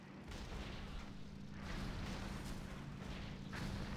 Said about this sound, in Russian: Так, пушечный залп.